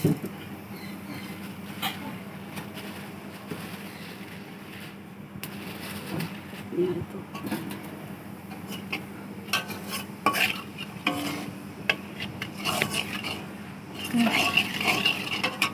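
Black cumin seeds tempering in hot oil left from frying rohu fish, a steady near sizzle with scraping utensil clinks and stirring over a low kitchen hum, with brief voices in the background.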